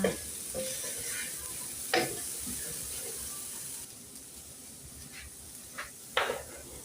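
Coriander and browned garlic are stirred together in a frying pan, giving a faint, soft sizzle with a few scattered scrapes of the utensil, quiet and close.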